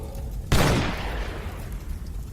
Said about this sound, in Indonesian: Suara tembakan, Pak,